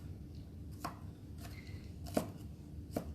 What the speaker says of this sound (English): These green onions are a little big at the bottom, so I'm just cutting the bottom pieces in half, the white.